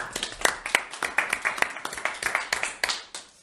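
Applause at a workshop session, a small group clapping with distinct individual hand claps in an uneven, lively rhythm, close and fairly loud, gradually thinning out toward the end.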